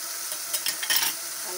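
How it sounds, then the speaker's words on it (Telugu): Ginger garlic paste and tomato pieces sizzle in a pan for a mulakkada tomato curry, with a spoon stirring through them a few times. Short and fairly soft, with no talk. "అల్లం వెల్లుల్లిపాయ పేస్ట్ వేయాలి."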